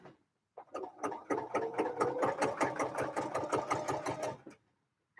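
A sewing machine runs top stitching with its regular presser foot in one continuous burst of rapid, even needle clatter, close and clear, starting and stopping abruptly with silence either side.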